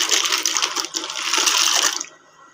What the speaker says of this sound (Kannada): ಈಗ ಕುದೀತಾ ಇರೋ ನೀರಿಗೆ ಒಂದು ಬೌಲ್ ಬೆಣ್ಣೆ ಹಾಕೋತಾ ಇದ್ದೀನಿ